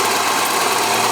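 A car engine runs in a steady, loud idle with an even mechanical drone, freshly reassembled after a head gasket job and timing work, with no talking.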